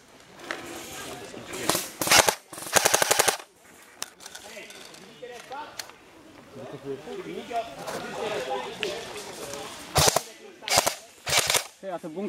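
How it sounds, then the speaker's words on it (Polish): Rapid gunfire in a war video game, Panzerfaust V, with bursts of clattering automatic shots and single pops, while players talk excitedly over it. "Ruskie strzelają!"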